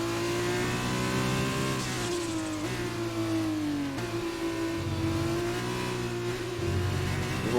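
A Formula 1 car engine in the F1 2020 racing game revs loudly and continuously, its pitch rising and dropping through gear changes over several seconds, with no voices.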